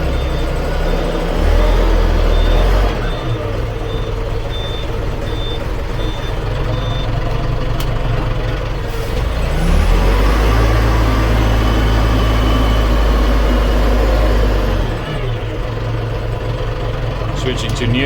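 Everun ER416T front end loader running with its engine idling and rumbling, a repeating reversing beep, and the engine revving up and easing off as the hydraulics work. Someone talks over the machine noise.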